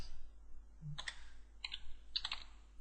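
Computer keys tapped in three short bursts of clicks, close and crisp over a low steady hum, while a command is entered at a recovery console; nobody speaks.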